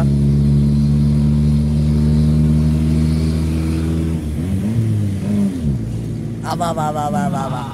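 A jeep's engine drones loud and close at a steady pitch, then revs up and down sharply as it accelerates hard.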